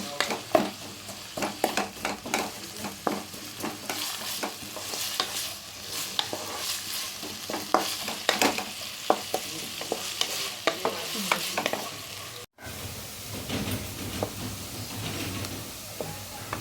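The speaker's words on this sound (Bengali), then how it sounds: "এখন আমি পেঁয়াজটা ভেজে নিচ্ছি হালকা করে" Steady sizzling of onion frying lightly in oil, with repeated scraping and stirring clatter throughout and a brief cut-out near the end; no one speaks.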